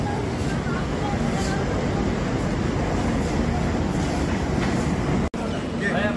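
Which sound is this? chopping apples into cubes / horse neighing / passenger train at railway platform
passenger train at railway platform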